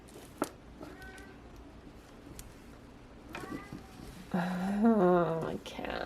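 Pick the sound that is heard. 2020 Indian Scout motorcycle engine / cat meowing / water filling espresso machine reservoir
cat meowing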